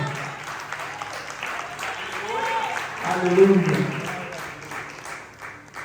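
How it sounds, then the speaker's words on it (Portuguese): Church congregation applauding during a Portuguese-language worship service, a steady wash of clapping that swells midway, with voices calling out over it. "começa agora a glorificar o nome dele com um aplauso"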